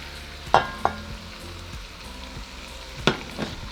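Tomatoes and Anaheim pepper sautéing in a pan for Mexican potato soup, a steady sizzle with a few sharp clinks of a utensil against the pan near the start and end.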